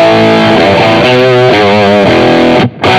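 Overdriven electric guitar, a clean Fender through a Blues Driver overdrive effect on a Headrush unit, rings out with gritty, saturated chords, played loud and alone, ending with a brief cut in the sound.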